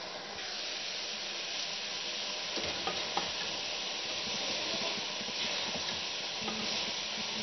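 Eggs and onions fry in oil in a pan, producing a loud, steady, dense sizzle that runs unbroken throughout with a few soft stirring scrapes and no talking.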